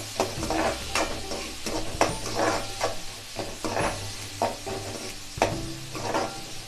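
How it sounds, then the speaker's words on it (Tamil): Onions sautéing in a pan for crab masala give a steady soft sizzle, broken by repeated scraping stirs of a utensil against the pan, close and fairly quiet, with no talking. "வெங்காயம் நல்லா வதங்கணும்."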